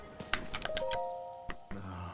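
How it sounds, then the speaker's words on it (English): A bell tolls from the Temple of Time in the Tears of the Kingdom video game, a few clear resonant chimes ringing out with lingering tones over a quiet game backdrop, and a short voice enters near the end. "The time bell that sounds from the Temple of Time rings at a set time each morning and evening"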